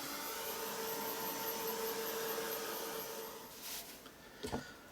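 An electric drying tool such as a heat gun or hair dryer blows steadily over a mixed media art journal page, a continuous broadband whoosh that holds level, then dips and sputters briefly near the end.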